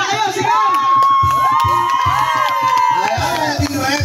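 A crowd of children shouts and cheers loudly and continuously at a game event, with whoops and rising calls layered over a steady din of many voices.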